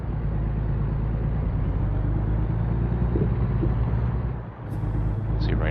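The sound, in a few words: car engine while driving in a video game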